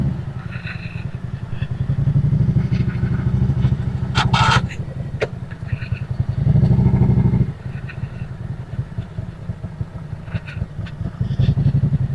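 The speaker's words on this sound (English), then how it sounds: "we got 9 bikes and 9 riders and 3 Harleys" A group of nine motorcycles, including three Harleys and three Hondas, rides along a road, giving a steady rumbling engine drone with brief rises and clatter, close and continuous, with no speech.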